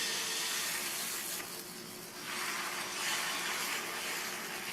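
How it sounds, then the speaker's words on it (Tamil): Dosa batter hitting a hot tawa gives a steady broadband sizzle and hiss, swelling and easing slightly as it spreads, with no talk over it. "ரெடி பண்ணி வச்ச மாவை நல்லா ஒரு தடவை கலந்து விட்டுட்டு ஊற்றிடலாம்"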